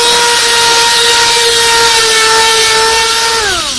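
A power sander running steadily on the wooden surface of a boat, a loud continuous whine that holds its pitch and then drops as the tool winds down at the end.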